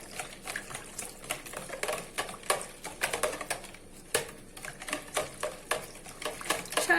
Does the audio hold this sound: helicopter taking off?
no